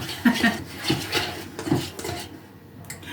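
Butter being creamed in a bowl for mushroom-shaped cookies, heard as a run of clinking, scraping utensil strokes against the bowl in an uneven rhythm, close and fairly clear, ending in a short quiet gap.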